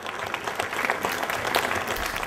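Audience applause at a live Miss Reginetta d'Italia beauty pageant broadcast, a steady dense clapping from a crowd that fills the whole moment without any voices.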